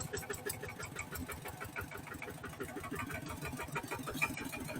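A tractor engine chugs steadily at close range, a rapid, even knocking rhythm that runs without a break.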